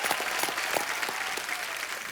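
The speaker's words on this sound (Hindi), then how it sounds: "जोरदार तालियां भी इनके लिए" Audience applause at a stand-up comedy show, cheering a newly appointed minister: dense, continuous clapping from a crowd, fairly loud and even throughout, with no talk over it.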